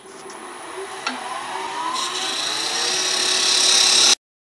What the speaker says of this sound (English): we'll just use a bowl gouge to take out all of the material in between